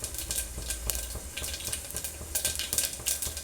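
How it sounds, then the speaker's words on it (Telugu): Spices for a tempering in hot oil for sambar crackle and sputter in close, busy bursts, with scattered sharp pops over a steady sizzle and no talk. "చిటపట అంటుంది కదా పోపు అంతా"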